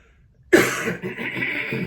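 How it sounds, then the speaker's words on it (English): A single harsh, close cough bursts out of silence, followed by a rough, raspy trailing breath. "Then he coughs, just like that."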